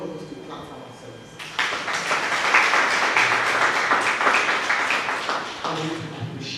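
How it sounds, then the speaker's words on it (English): An audience at a training event claps for itself in a burst of applause lasting a few seconds, dense and fairly close, with a voice speaking just before and after it. "So I want all of us to clap for ourselves."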